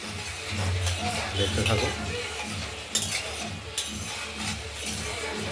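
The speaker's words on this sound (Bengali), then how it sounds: "মশলাটা কষানো হচ্ছে" Ground spice paste being stirred and sautéed in a kadai for a paneer and potato curry, a steady close scraping and sizzling that runs throughout, with a couple of sharper utensil knocks near the middle.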